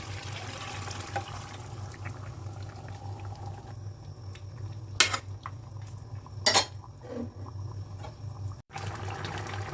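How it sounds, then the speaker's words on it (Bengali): Hot broth poured into a simmering rui fish curry with cauliflower, tomato and potato gives a soft, steady liquid wash over a low hum, with two sharp pan clinks near the middle and no talking. "এখন হচ্ছে আমি গরম ঝোল দিয়ে দিব"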